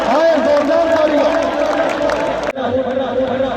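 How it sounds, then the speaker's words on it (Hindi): Crowd noise at a tabbakan game match between Akhtar Khan Baloch and Naveed Warraich, a steady dense roar of spectators with clapping and cheering throughout, the crowd briefly dipping near the end before the noise carries on. "जोरदार तालियां"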